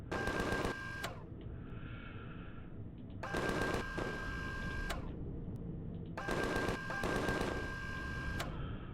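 Gunfire in the Empyrion video game comes in three rapid automatic bursts, each lasting about a second, shooting at trees, with a droning hum between bursts and no talk.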